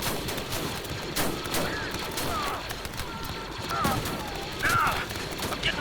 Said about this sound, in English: I'm getting shot here! I'm taking too much fire!